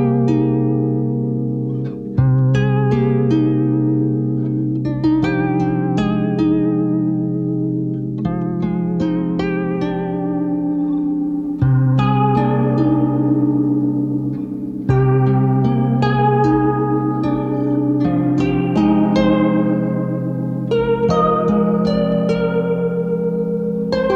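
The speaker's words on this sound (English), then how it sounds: "Now I'm going to turn the rate up and the depth down on the chorus and then send that into the reverb" Guitar-like notes passed through a chorus effect with fast rate and low depth, then into a spring reverb pedal with a real spring, ringing steadily and loudly throughout with a washy, shimmering tail.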